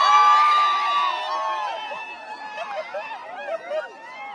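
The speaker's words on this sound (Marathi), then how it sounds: "कधी तुम्ही मथुरच्या पाठी गर्दी नसेल बघितली तेवढी गर्दी आता आहे." Dense crowd chatter and babble at a packed village fair, a steady wash of many voices with scattered shouts and whistles rising over it, loudest at the start and then holding at a busy level.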